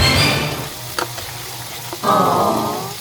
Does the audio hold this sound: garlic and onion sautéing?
yes